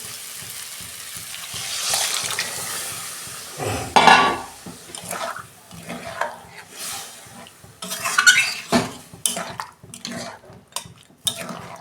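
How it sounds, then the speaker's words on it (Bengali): Moong dal tipped into a pan of fish head and fried spices for a dal, with a loud splash and hiss, then stirring scrapes and clatter of utensils against the pan in bursts. "এবার আমি ডালটা দিয়ে দিই।"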